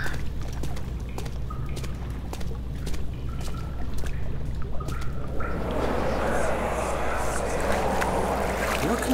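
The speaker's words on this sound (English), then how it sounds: "What the hell? Is that water?" Flowing, rushing water in the horror game Amnesia: The Dark Descent, a steady broadband wash that swells louder in the second half beneath a low ambient hum.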